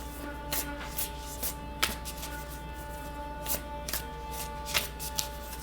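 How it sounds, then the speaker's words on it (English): Work Your Light oracle cards are shuffled by hand in a quiet room, making soft riffling slaps and taps at an uneven rhythm, faint and close. "I'm going to pull a couple of Work Your Light Oracle cards."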